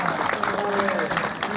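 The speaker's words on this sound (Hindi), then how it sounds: "तो ताली बजा दो।" Crowd applause at a religious fast-breaking gathering, a steady wash of many hands clapping together at close range, with a voice calling out over the clapping throughout.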